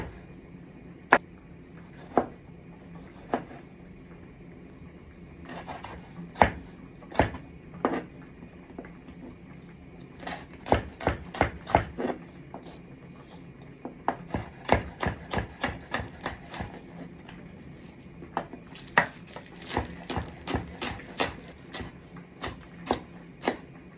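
Knife chopping jalapeno and garlic on a cutting board: irregular sharp taps, some single, some in quick bursts of rapid strokes, close and fairly quiet, with no talk.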